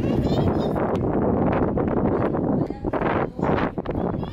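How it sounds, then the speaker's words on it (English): Steady wind buffeting a microphone, a broad continuous rumble that dips briefly near the end, with no clear voices. "It's kind of windy and fresh."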